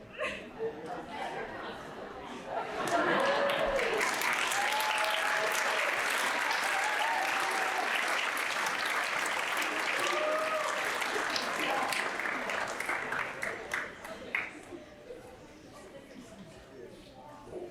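Crowd applause at a Northview High School concert band final concert for the class of 2024, swelling after a quiet start into sustained, dense clapping that fills most of the stretch, then thinning toward the end with some chatter underneath.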